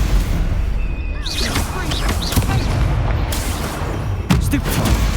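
Spell-casting bursts from Hogwarts Legacy as Stupefy is fired repeatedly in combat, giving booming, whooshing hits over a dense game soundscape, with a sharper blast near the end.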